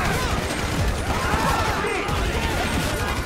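Automatic rifle fire in the GTA 5 video game, a dense, continuous barrage of overlapping shots and crashes that stays loud and steady throughout with no pauses.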